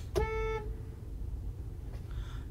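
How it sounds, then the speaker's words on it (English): A single car horn honk sounds sharply near the start, with a second fainter honk around two seconds later, both over steady traffic rumble on a road. "Doesn't even hear the honk."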